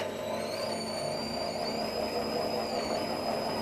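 A TV-320 lathe spinning up for a rotation check, a faint steady motor hum with high tonal whines that shift slightly in pitch, running continuously without speech.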